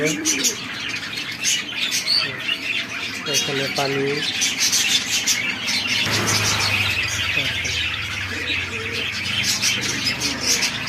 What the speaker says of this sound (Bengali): এই যে জোড়া পাখি, কত সুন্দর পাখি।